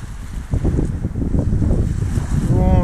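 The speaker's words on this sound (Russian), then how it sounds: "Это у нас море." Winter sea waves wash onto a beach at the resort town of Nea Kallikratia in Chalkidiki, Greece, a loud rolling surge mixed with strong wind buffeting the microphone, while a voice speaks briefly.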